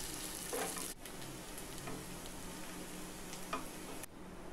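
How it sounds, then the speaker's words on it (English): Thinly sliced onion fries in a pan for Kashmiri pulao, giving a steady, close, dense sizzle that runs without pause throughout, with no voices. "Fry half a cup of thinly sliced onion."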